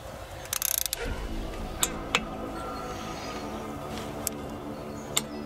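A torque wrench tightening old cylinder head bolts on a Renault engine, giving a fast clicking ratchet burst followed by scattered single clicks and ticks, close and fairly quiet.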